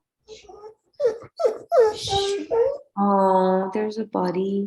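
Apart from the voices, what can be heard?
dog whimpering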